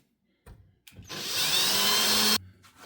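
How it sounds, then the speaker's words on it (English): A power drill countersinks holes for flathead screws on a model railway layout in a short burst: a brief spin-up blip, then a steady high whine lasting over a second before it stops, close and alone. "I would like to countersink those flathead screws a little bit."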